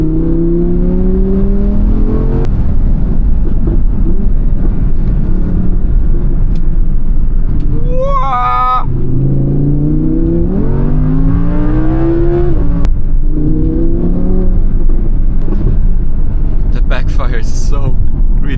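V10 supercar engine droning and revving while cruising along a forest road, steady and loud throughout with rising pitch sweeps as it accelerates through gears, occasional whine and wind noise, and a person speaking briefly over it.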